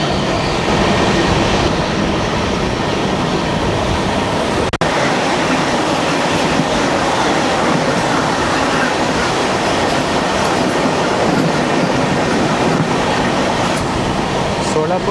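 The 16332 Express from Daund to Mumbai CSMT runs at speed, heard from inside a 2A coach as a loud continuous rumble and rail clatter with one sharp click partway through, and a voice faintly under the noise.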